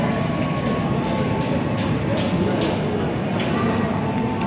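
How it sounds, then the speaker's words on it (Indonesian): An Argo Sindoro passenger train hauled by a CC 203 locomotive approaches a station, a loud, continuous low rumble and rolling rail noise with a faint metallic tone and station ambience. "Dari kejauhan nampak akan ada kereta api dengan CC 203."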